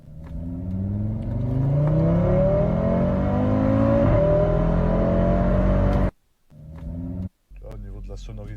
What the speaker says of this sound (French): Cette RS3, le bruit qu'elle fait, je crois que c'est la plus bruyante de toutes les RS3.